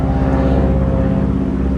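A small propeller airplane drones overhead, a steady loud buzzing engine hum with a throbbing pulse that holds through the moment.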